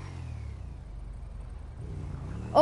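A motorcycle engine in GTA 5 hums low and steady, rising in a revving surge near the end, with no talk over it.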